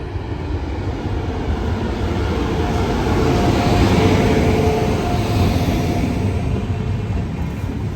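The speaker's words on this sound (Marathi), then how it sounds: "Latur Yesvantpur express Latur railway station येथून यशवंतपूरच्या दिशेने निघालेली आहे" Latur–Yeshwantpur Express pulling out of Latur railway station, a loud, close, continuous rumble and rattle of rolling coaches that swells slightly midway, with no voices.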